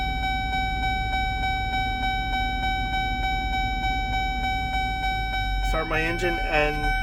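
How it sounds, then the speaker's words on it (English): A truck's engine runs steadily during an in-cab pre-trip inspection, a loud continuous low rumble with a regular ticking warning chime above it, and someone speaks briefly near the end. "So I will start my engine and"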